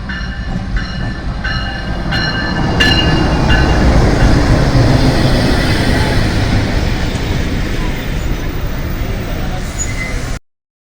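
The Khyber Mail train hauled by GEU-40 locomotive 9041 arrives at Rahim Yar Khan railway station, a loud continuous rumble of rolling wagons with some clattering and whistle-like tones early on, close by.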